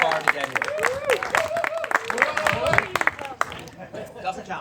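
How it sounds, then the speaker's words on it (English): A crowd claps for guests who travelled far from the UK, a scattered patter of hands mixed with talking and chatter from people nearby. "big round of applause for everybody who traveled"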